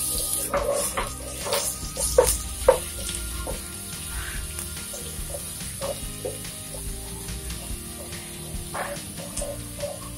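Cumin seeds splutter in hot oil for a Malayali chicken masala bhuna, giving a faint, steady sizzle with scattered soft pops and crackles throughout, quiet and close, with no voices.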